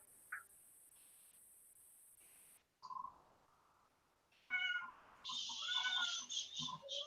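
A pet cat gives a few short, faint meows indoors, scattered between stretches of near silence and followed by louder mixed chirpy sounds, with no talking.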